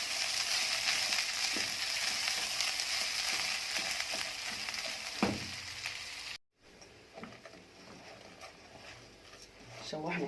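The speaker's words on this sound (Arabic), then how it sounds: "هنفضل بقى نشوح بقى فيه لحد ما ايه، نغلفه بالماده الدهنيه اللي احنا حطيناها" Lentils and rice sautéed in oil in a pot for Alexandrian yellow koshary give a steady, bright sizzle with occasional stirring scrapes. The frying is loud for about six seconds, then quieter after a brief drop.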